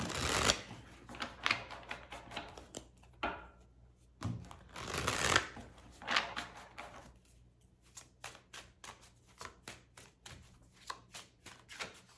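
Tarot cards are shuffled close by, giving a rapid riffling flutter in several bursts followed by a steady run of crisp, evenly spaced card snaps.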